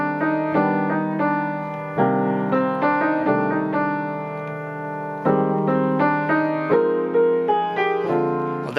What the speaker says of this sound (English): like if I played block chords, it would sound like this.